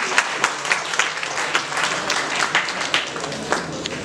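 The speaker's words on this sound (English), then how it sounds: "Please give them a huge round of applause" An audience applauds at a Constitution Day event on legal aid, with brisk, steady clapping from a moderate crowd that fills the room and no voices over it.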